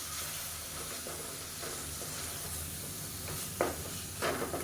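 Tomatoes sauté in a pan with a tablespoon of water, giving a faint, steady sizzle and hiss with a few soft stirring knocks, close by and without talking.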